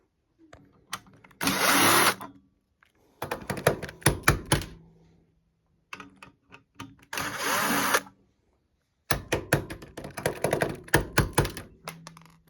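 Screws are backed out of the panel on a Renogy inverter with a power drill in repeated short bursts of whirring, separated by clicks and clunks of handling, close and fairly loud.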